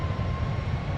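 Boeing 747-400 engines in Flight Simulator X spooling up during a night approach, a steady broad roar with a low rumble and a faint high whine, constant and unbroken with no voices.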